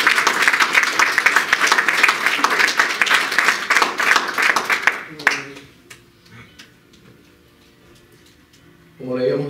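A church congregation claps loudly and steadily for about five seconds, a dense crowd applause that fades out, with someone speaking afterward.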